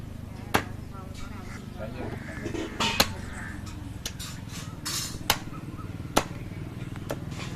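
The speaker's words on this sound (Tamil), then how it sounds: "இப்போ குழம்புக்கு ஏற்ற மாதிரி சின்ன சின்ன துண்டுகளாக நம்ம நறுக்கி எடுத்துக்கலாம்." Country chicken being chopped into small curry pieces in a village kitchen: sharp knife strikes land irregularly, about six distinct hits, over steady low background noise.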